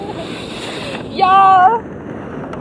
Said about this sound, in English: Probably it's just so windy.